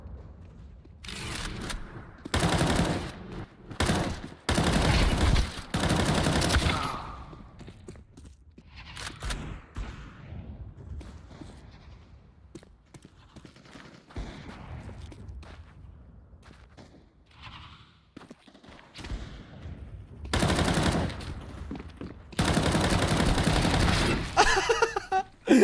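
Bursts of video game gunfire, heavy volleys near the start and again toward the end with sparser shots and movement between them, played loud and close.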